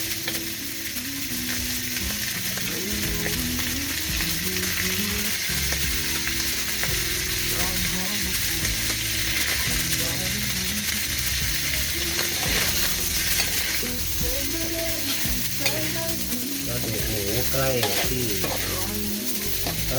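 Pork stir-fried and turned continuously in a pan, a dense unbroken sizzle with constant scraping and clattering of the spatula for the full stretch, close and loud, no speech.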